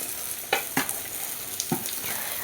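Chopped okra frying with onion and garlic in a pan, a steady broadband sizzle with a few sharp stirring scrapes and clatters near the start and middle, close and moderately loud.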